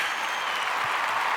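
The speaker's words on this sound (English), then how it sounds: "can we put the little round of applause" A short round of applause as a sound effect on a podcast, a dense, steady burst of clapping that fills the brief clip at even loudness.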